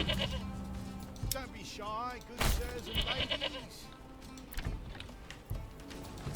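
Goats bleat in the medieval city-builder Manor Lords, a few wavering calls rising over low game ambience while someone talks throughout.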